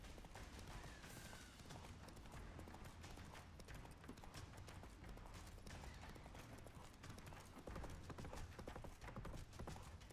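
Roach, Geralt's horse in The Witcher 3, gallops at a quick, steady clip-clop of hooves, loud and close over a constant rushing wash of game ambience, with no speech.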